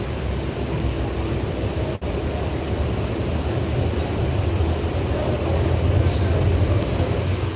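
Moving train near Yeshwanthpur, Bengaluru, heard from on board: a steady loud rumble of wheels on rails throughout, with faint high squeals toward the end, no speech.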